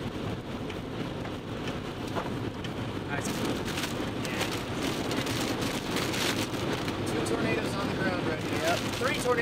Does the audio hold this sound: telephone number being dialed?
no